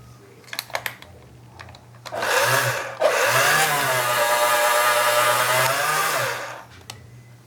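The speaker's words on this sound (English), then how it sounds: "re-roll this clay through the thickest setting of the pasta machine and then fold it in half" A hand-cranked pasta machine rolls polymer clay on its thickest setting, producing a loud, sustained mechanical whirring grind lasting several seconds, preceded by a few light clicks and handling taps.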